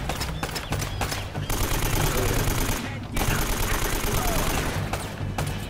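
AK assault rifle fire in the video game Uncharted: Drake's Fortune, with dense rapid bursts of automatic gunfire running almost continuously and a brief gap partway through.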